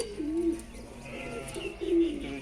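A white Rajshahi Giribaz pigeon coos close by in soft, low, repeated throaty notes, a few calls spread over a couple of seconds in a quiet setting.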